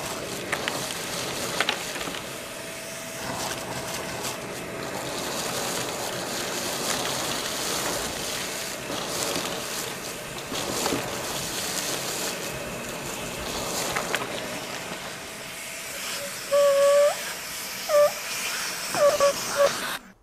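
A Milwaukee M18 FUEL dual-battery wet/dry vacuum runs on its low setting, giving a steady whooshing drone with a faint motor whine that continues throughout, broken near the end by a few short rattles of debris.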